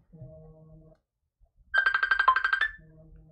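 A phone rings with a rapid electronic warbling burst of about a second, loud and close, between stretches of low droning noise.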